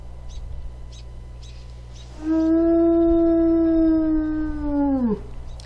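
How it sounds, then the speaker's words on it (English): After a few seconds of faint birdsong, a wolf in the video game WolfQuest 2.7 lets out one sustained, clear howl that holds steady before sliding down sharply at the end. "Now on to the wolf howls."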